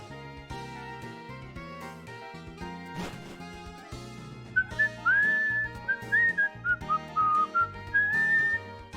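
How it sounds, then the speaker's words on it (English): A person whistles a wandering, tuneless melody over background game music, the whistled notes rising and falling loosely in the second half without following the song. "Just whistling tunelessly along with the music, because I don't know the song very well."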